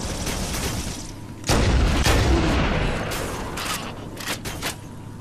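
Assault rifle gunfire in Halo, with loud sharp reports and booming impacts in a dense, reverberant game soundscape, a few shots standing out near the end, with no talking.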